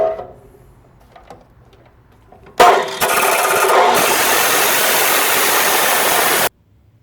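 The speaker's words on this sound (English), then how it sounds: "I tried to match the angle so the chop saw would cut at over the white line exactly" A chop saw cuts steel for car suspension rocker arms, starting abruptly with a loud, sustained, harsh grinding whine that lasts about four seconds and then stops sharply. It follows a few quiet clicks, and no one speaks.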